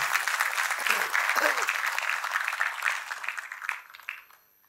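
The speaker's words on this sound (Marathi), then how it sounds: "जोरदार टाळ्या" Loud applause from a large crowd welcoming a guest at a Veer Savarkar centenary event, a dense wash of clapping with voices mixed in that thins out and stops near the end.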